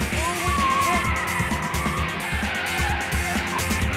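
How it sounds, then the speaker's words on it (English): A Mini car doing handbrake turns at a motor show, with loud tyre squeal and skidding rising and falling over a revving engine, heard close and continuous. "The amazing Russ Swift will be handbrake turning all day, every day"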